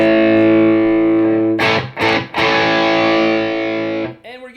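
Electric guitar through a Blackstar St James amp in 50-watt mode, playing a loud, distorted sustained chord that breaks into a few choppy strummed hits, then rings on and cuts off, with a brief voice at the end.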